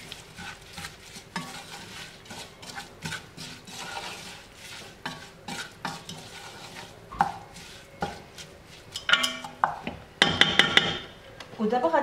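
Ingredients stirred and mixed in a pot for Moroccan dwida bidaouia, with spoon scrapes and clinks against metal, a few chopping-like knocks and light sizzling, growing louder and busier toward the end; no talk.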